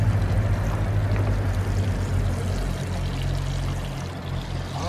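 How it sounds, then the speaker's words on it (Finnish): A kettle boiling at a campsite makes an odd, strained noise, a loud, close, continuous rushing roar with bubbling, steady throughout and heard alone. "Tää rupesi ihan outoa ääntä pitää tää keitä."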